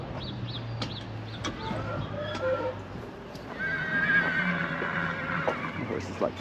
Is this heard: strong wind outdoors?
no